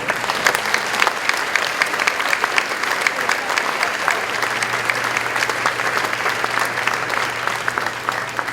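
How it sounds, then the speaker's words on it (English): A large crowd at a high school graduation ceremony applauds the graduates steadily, dense clapping sustained from start to finish. "Let us take this time to applaud these scholars and athletes"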